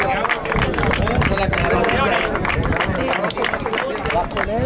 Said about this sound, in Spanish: Un aplauso a estos chavales.